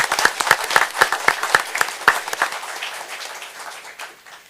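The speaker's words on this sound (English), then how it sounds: "Let's give our winners a round of applause" An audience at a city commission meeting applauds young art contest winners: dense, lively clapping that holds strong, then thins and fades out.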